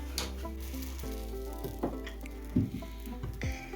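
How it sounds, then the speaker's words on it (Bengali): Parathas frying in a pan at home, a steady close sizzle with a few soft scraping and pressing touches from a ladle as the flatbread is turned and cooked. "এদিকে বাবা পরোটা ফেলছে আর এদিকে ছেলে পরোটা সেঁকছে"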